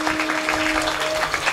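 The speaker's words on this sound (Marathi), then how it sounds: "महाराजांच्या करता जर जोरात टाळी वाजवा" A kirtan audience claps together in a dense, sustained burst of applause, loud and close, with a faint tonal hum behind it.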